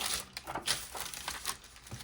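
Greaseproof paper crinkles and rustles in a craft session, a run of dry, close crackling handling noises over about two seconds with no talk.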